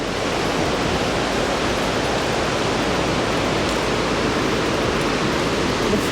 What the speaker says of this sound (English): The flowing river,